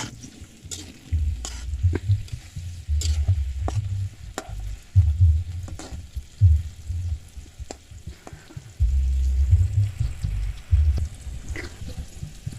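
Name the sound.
stirring fried jengkol with sweet soy sauce in pan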